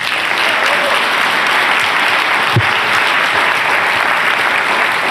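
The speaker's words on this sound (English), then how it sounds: "One more round of applause for all the teams" Applause from an audience for the teams at a healthcare startup showcase: loud, steady, dense clapping throughout, with a brief cheer or shout near the middle.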